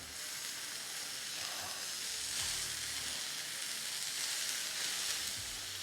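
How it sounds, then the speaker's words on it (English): Smash burger patties sizzle steadily on a Ninja griddle, a dense, close hiss of frying fat that holds at an even level with no voices. "Time to get these smash burgers on"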